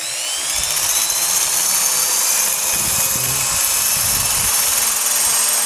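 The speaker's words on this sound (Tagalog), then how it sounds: "Baka ito na po ang ating drill." Electric drill boring into a thin tin can, a steady high whine running throughout with grinding metal bursts, close and loud, no talking over it.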